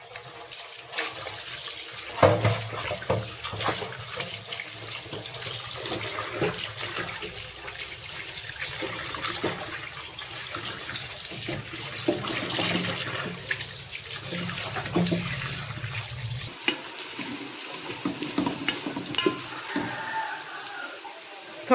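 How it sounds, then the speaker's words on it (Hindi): Raw beef is washed under running tap water in a kitchen, giving steady splashing and gushing with handling noises, and a clatter of pieces in a bowl. "इतनी देर में हम बीफ को वॉश कर लेंगे अच्छी तरह से"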